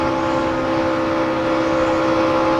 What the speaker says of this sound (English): You're hearing him pedaling the throttle a little bit off the corner.